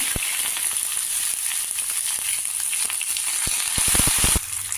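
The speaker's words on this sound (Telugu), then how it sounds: "పోపు వేగింది" Green chillies, curry leaves, cumin and mustard seeds fry in hot oil, a dense close sizzle with scattered sharp pops and crackles throughout.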